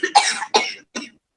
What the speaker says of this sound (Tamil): இருமல் வரும்.